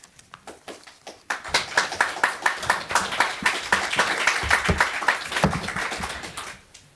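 An audience claps for the speakers at a panel discussion on Russia's invasion of Ukraine and European integration, starting with a few scattered claps and swelling into steady, close applause that fades out.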